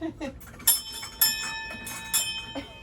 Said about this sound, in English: can we get you ringing the bell?